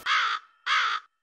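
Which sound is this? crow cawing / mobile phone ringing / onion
crow cawing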